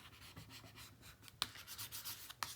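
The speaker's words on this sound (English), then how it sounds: "get in and burnish some of this tape that's there" Tape is rubbed down with a burnishing tool on a papercraft building, giving soft, uneven scraping strokes with a couple of sharper clicks, faint and close with no talking.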